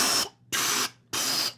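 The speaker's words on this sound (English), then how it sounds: "Spray more things." Three short, sharp hissing spray bursts from a cartoon animation follow in quick succession, each cutting off abruptly, with no voices.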